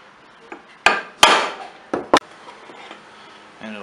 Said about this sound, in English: just give it a tap with a brass hammer.